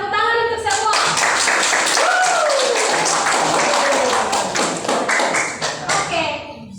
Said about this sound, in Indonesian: Ya, tepuk tangan untuk semua.